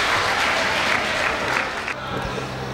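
Loud, sustained audience applause greets the poet Ankit Maurya at a poetry gathering at IMS BHU, a dense wash of clapping that thins slightly near the end.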